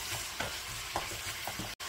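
Webfoot octopus stir-fries with seasonings in a pan, a steady close sizzle broken by a few scraping stirs of a utensil, with no talk.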